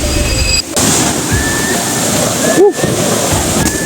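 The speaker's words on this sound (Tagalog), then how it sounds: "Ito yung Bangon Falls." Bangon Falls, a waterfall near a cave system in Catbalogan, roaring as a steady, loud broadband rush of falling water that fills the whole stretch, with a voice briefly speaking over it.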